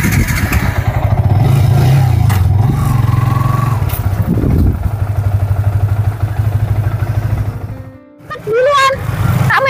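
Motorcycle engine running close by with a rhythmic mid-pitched putter and clatter, steady throughout, with brief speech near the end.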